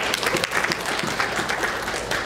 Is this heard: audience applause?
yes